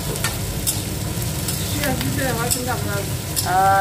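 Ingredients for rawa dosa frying in a pan while being stirred: a steady low sizzle with light scraping strokes, and a voice speaking over the end.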